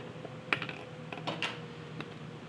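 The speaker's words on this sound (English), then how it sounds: "This is what I am typing into my stat edit." Button presses on a calculator while numbers are entered into a statistics list editor: a few scattered, quiet clicks spread irregularly over a couple of seconds, with no talking.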